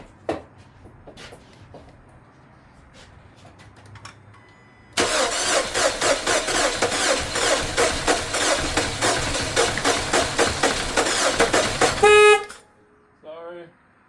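A 2013 Dodge Dart engine cranks and catches on its first startup after a quiet stretch, then runs loud and rough for about seven seconds before cutting off abruptly, followed by a brief softer noise.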